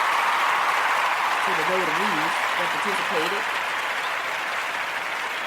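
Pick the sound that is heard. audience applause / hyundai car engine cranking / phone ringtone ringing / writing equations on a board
audience applause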